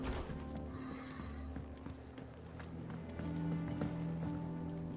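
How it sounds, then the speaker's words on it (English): A horse clip-clops at a steady run in a video game, its hoofbeats layered over game mechanisms, a sustained hum and brief whinny-like tones, with no talk. "Cavalo."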